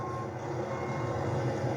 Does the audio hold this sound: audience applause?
no